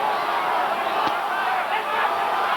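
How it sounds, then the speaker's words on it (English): A boxing arena crowd roars during a Holyfield fight, a sustained, dense hubbub of cheering with a sharp thud partway through, heard under a commentator's voice. "The crowd trying to urge Holyfield on."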